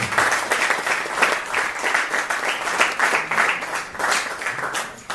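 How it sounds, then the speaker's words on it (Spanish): An audience at a mathematics education lecture gives a warm round of applause for a presenter, many hands clapping densely and steadily at moderate loudness, with no speech over it. "un aplauso para ella en este momento"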